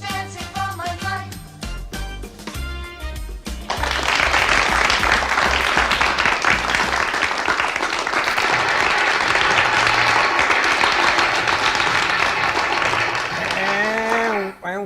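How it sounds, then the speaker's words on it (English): A live show audience breaks into loud, sustained applause after a few seconds of jingly music, the dense clapping and cheering filling the rest of the stretch with steady intensity. "That applause either gets louder or more vicious or bigger."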